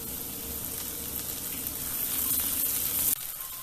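Garlic sizzles and fries in a cooking pot with softened onions and capsicum for a bean, pasta and vegetable soup, a steady close hiss of hot oil that swells slightly before dropping off abruptly near the end.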